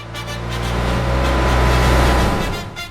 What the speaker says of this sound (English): The truck begins its crossing.